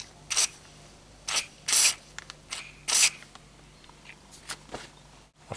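Carburetor cleaner squirted into the small pipes of a Zenith 28IF carburetor, heard as several short, sharp hissing bursts of uneven length, close up and separated by quiet pauses.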